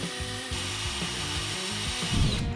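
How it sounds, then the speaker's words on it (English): A power drill whirs steadily as it bores pilot holes into wood for a hidden countertop support bracket, with the motor pitch wavering as it bites, loud and close with no talk. "I'm gonna go ahead and start drilling my pilot holes"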